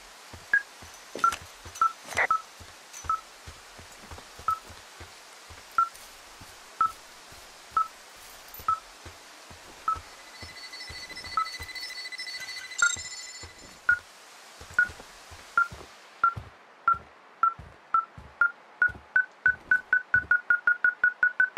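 A tracking device beeps in the video game Firewatch, with steady electronic pips about once a second that quicken into a rapid run near the end, alongside a brief sustained tone and footstep-like thuds.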